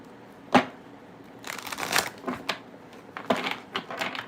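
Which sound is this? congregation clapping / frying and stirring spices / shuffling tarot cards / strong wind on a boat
shuffling tarot cards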